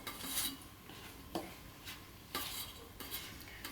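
A spoon stirs rava idli batter with curd in a bowl, producing soft, rhythmic scraping strokes about every second, quiet and close with no talk.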